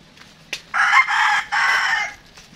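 A backyard rooster on a rural Filipino home garden crows in two long, loud calls close by, with a brief sharp sound just before and no voices.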